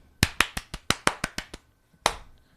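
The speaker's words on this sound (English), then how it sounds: "Should we clap so you know where it is?" Hands clap about nine times in quick, slightly uneven succession, then pause and give one final clap, each sharp, close and loud in a quiet room with no talking over them.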